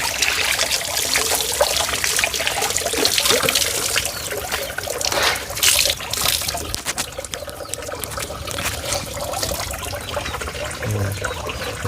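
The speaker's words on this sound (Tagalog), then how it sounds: "Banlawan mo muna bago mo isabit para malinis na." Water splashes and trickles steadily as laundry is rinsed by hand before hanging, a continuous close wet sloshing with dripping that runs throughout without speech.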